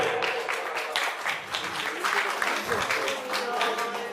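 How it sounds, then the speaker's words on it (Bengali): An audience at an awards ceremony claps, a brief burst of mixed applause with voices audible alongside. "সবাই একটু হাততালি দেবেন।"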